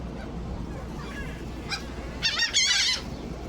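A seagull on a seaside boardwalk gives a short series of shrill, squawking calls near the end, clear above a steady rush of wind and outdoor background noise.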